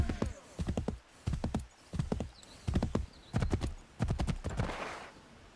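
Rhythmic hoof clip-clops of a horse trotting in Assassin's Creed III, steady groups of hits repeating several times, close and loud, with no talking.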